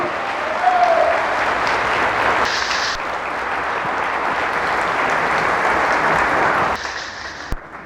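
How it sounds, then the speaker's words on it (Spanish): A church congregation breaks into loud, sustained applause, dense steady clapping filling the room for several seconds before tapering off abruptly near the end. "Fuerte aplauso al Señor"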